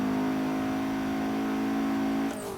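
Turbocharged Mazda MX5 accelerating hard along the Nordschleife, a loud, steady engine drone with a rising intake whoosh that holds for over two seconds, then drops sharply near the end as the next gear is taken.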